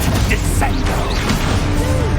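The Descendo spell in Hogwarts Legacy slams down as a loud crash with a whack and mechanical clatter, layered over a busy game soundscape with a voice in the mix.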